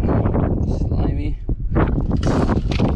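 Wind gusting outdoors during early spring crappie fishing, a loud rough rumble that rises and falls in uneven gusts, with someone talking over it.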